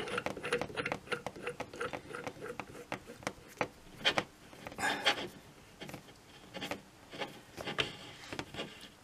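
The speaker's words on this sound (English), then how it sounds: "You can put the air release valve on the end." An air release valve is screwed onto the cylinder of a Hatsan air rifle, giving close, faint metallic scraping, ticking and rubbing in irregular short strokes with no talking.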